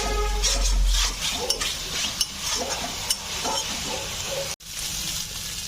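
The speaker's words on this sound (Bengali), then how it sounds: "এখন আমি ভেজে রাখা আলুগুলো প্রথমে দিয়ে দেব, তারপর একটু কষিয়ে নেব।" Fried potatoes toss in spice masala in a pan for a raw banana kofta curry, giving a soft sizzle under a few distinct spoon scrapes and knocks against the pan.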